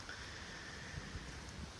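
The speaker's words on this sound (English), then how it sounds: "This wind." Outdoor wind in Ashland buffets the microphone as a steady, dense rush of noise that fills the brief moment with no talk.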